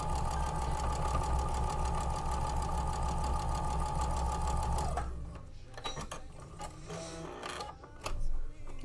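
A sewing machine runs steadily, stitching quilt block pieces for an Infinity Block, a loud continuous whir that stops about halfway, followed by quieter handling noises and a brief clatter.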